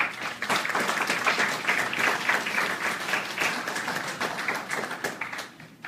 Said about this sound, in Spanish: Recibamos a nuestro presentador con un fuerte aplauso.